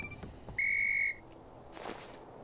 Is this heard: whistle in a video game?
yes